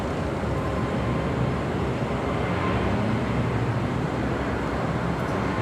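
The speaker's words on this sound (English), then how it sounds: "747-400 freighter" A Boeing 747-400 freighter jet roars steadily at LAX, a broad low rumbling engine drone heard from a hotel rooftop with no other sounds standing out.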